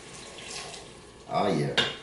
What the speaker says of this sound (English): we're going to add our 1 cup of water.